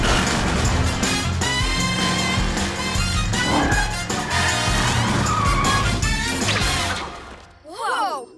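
A cartoon Cat Car from PJ Masks roars along with a loud, busy engine and action score, then tires squeal and skid briefly near the end before quieting.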